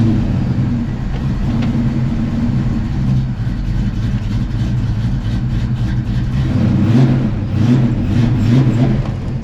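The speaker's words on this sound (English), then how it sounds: "So let's start the car," A Foxbody car on prototype coilovers runs near at hand with a deep, steady engine rumble that swells a little toward the end as it pulls away, with no talking.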